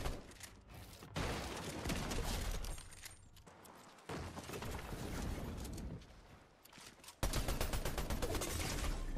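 Gunfire in a Fortnite ranked match, loud sharp bursts of shots and impacts in irregular clusters, separated by brief gaps.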